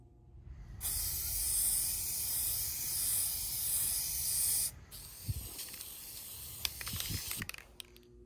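An aerosol spray paint can sprays a weathered prop in one sustained loud hiss of about four seconds, followed by quieter clicks and handling noises.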